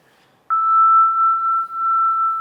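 After a brief quiet moment, a pure electronic tone sonified from the orbit of Venus starts abruptly and holds steady at a fairly high pitch, clean and sustained.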